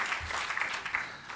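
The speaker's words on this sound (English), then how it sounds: "that deserves applause" Delegates at a CFA networking dinner clap briefly, a short, fairly close burst of steady applause from a seated audience with individual hand claps standing out.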